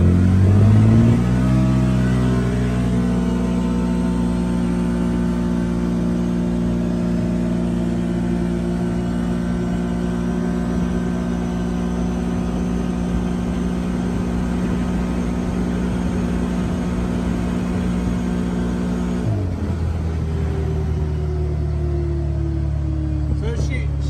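A CFMOTO vehicle fitted with an RNG Performance clutch kit accelerates, its engine note rising quickly and then holding a loud, steady drone before the pitch drops off near the end.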